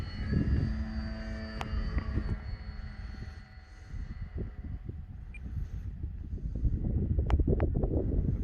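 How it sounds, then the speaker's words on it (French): A small propeller engine on an Avios Grand Tundra Plus model airplane whines thinly at a distance as it passes and does a touch-and-go on snow in crosswind. Gusty wind rumbles loudly over the microphone throughout. "premier touch and go dans la neige"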